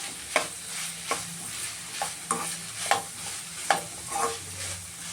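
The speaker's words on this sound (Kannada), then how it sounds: "ಇವಾಗ ಅದು ಇದನ್ನೊಂದು 2 ನಿಮಿಷ ಫ್ರೈ ಆಗಬೇಕು." A tomato mixture fries in a pan on low heat with a soft continuous sizzle, punctuated by regular scraping stir strokes roughly every second.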